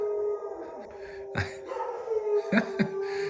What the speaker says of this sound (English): The dogs are howling